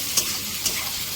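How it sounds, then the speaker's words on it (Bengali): Spice paste with chilli paste frying in a pan while it is stirred and cooked down, giving a steady soft sizzle with a couple of faint ticks, no talk. "লঙ্কা বাটা দিয়ে মশলাটাকে সুন্দর করে"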